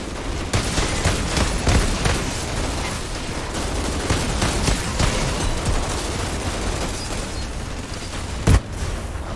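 A hand cannon fires in the Outriders shooter game amid a dense, continuous barrage of booming gunfire and combat noise, with one sharper blast standing out near the end.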